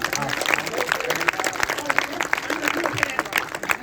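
An audience at a Hindi poetry gathering claps steadily throughout, dense broadband applause filling the room, with a few voices calling out beneath it.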